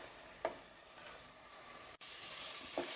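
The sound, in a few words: mutton kulambu masala sautéing and being stirred in pan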